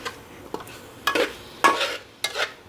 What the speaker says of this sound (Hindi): और मिक्स करते रहना है आपने, वरना आलू आपके नीचे लग जाएंगे और जल जाएंगे